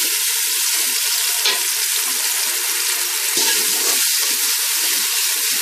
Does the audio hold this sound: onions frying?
yes